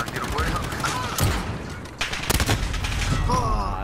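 Gunfire in a Call of Duty Modern Warfare free-for-all match on the Rust map, with sharp shots and bursts around 1.2 and 2.3 seconds over steady game noise while players talk.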